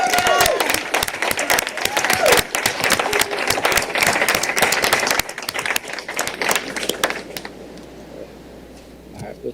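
Audience applause at a Montgomery County Board of Commissioners meeting in a boardroom, a burst of many hands clapping that thins and fades toward the end, with some voices mixed in.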